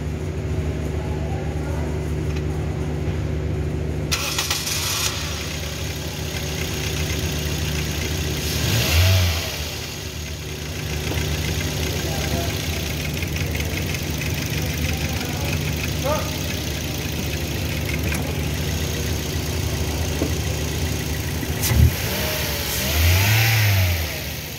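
Toyota Yaris engine running after an ignition coil replacement on a misfiring cylinder, a steady close idle with a few brief revs, while people talk over it.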